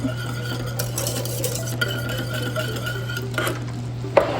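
Boiled honey and butter being stirred in a pot, with light spoon scrapes and clinks against the metal over a steady low hum, and a sharper knock near the end; no voices.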